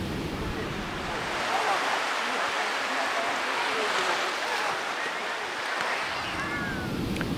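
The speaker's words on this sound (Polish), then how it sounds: "Kto sprawia, że fala goni falę?" Sea waves on a beach make a steady, broad rushing wash with a soft swell throughout, loud and fairly close, with no voices.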